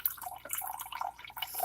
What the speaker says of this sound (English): it's the water filter. That's why it sounds like somebody's urinating.